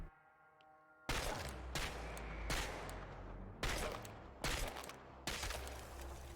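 Gunfire in the video game Chernobylite: after a quiet, humming lead-in, a loud blast hits, then several more heavy shots and booms follow at irregular intervals, each ringing out and decaying.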